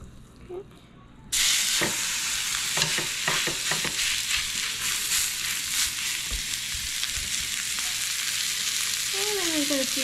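A slab of meat hits a very hot pan greased with about a tablespoon of bacon fat, and a loud, steady sizzle and hiss begins abruptly and carries on close up.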